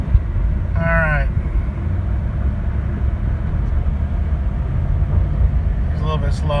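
A 2001 Dodge 15-passenger van with 68k miles on a road test drive gives a steady low rumble of engine and road noise inside the cabin, constant and moderately loud, with a brief chirping sound near the start and near the end.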